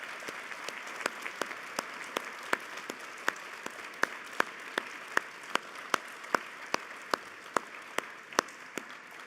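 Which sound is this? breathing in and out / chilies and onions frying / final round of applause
final round of applause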